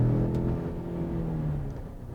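A 2019 Ford F-150 Limited pickup truck drives along with a steady, close engine hum and low road rumble that eases slightly toward the end, with no talking.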